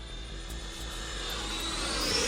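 A Horizon Hobby F-16 RC jet flies overhead, giving a steady, rising whoosh of airflow and engine noise that grows slightly louder as it climbs. It is moderately distant, and no voices are heard.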